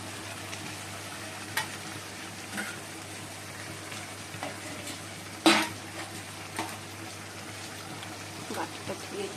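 Chicken frying in a pan on a home stove, a steady low sizzle broken by scattered clinks and scrapes of a spoon stirring it, with one sharp metallic knock midway; a voice is faintly present.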